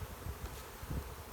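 A dense, steady buzz of many honey bees in a hive hums close by, low and continuous with slight swells, no voices.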